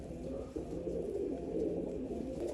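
Low, soft cooing from a velvet-coloured pigeon repeats close by over a faint background hum, with no voices.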